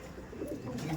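Pigeons with clipped wings at a loft coo softly in a brief, low murmur, close but faint, under a light background hum.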